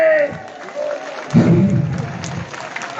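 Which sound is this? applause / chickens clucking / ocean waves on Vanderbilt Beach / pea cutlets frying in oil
applause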